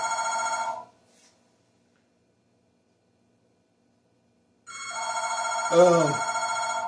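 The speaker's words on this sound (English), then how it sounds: "That's the phone ringing." A telephone rings in a long electronic burst, falls silent for several seconds, then rings again with a short thump partway through.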